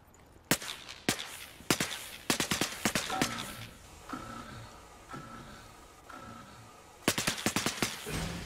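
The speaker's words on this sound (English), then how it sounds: "Don't fire, because I was just there where I saw the bullets flying." Bursts of automatic gunfire from the video game Star Citizen: rapid volleys open the scene, more clusters follow, a quieter stretch of distant rumble sits in the middle, and a final loud burst hits near the end.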